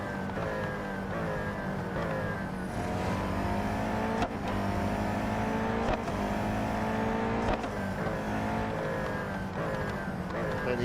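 Race car engine in Real Racing 3 screaming at high revs, pitch climbing and dropping through gear changes as it drives fast around the track, loud and continuous from start to finish.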